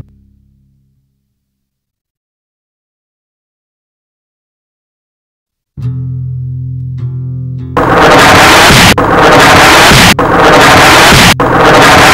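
A bomb blast at the Marriott hotel in Pakistan, heard after long silence as a low droning tone that breaks into a series of loud, harsh roaring bursts, several in quick succession.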